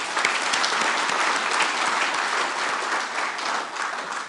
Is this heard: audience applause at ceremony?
yes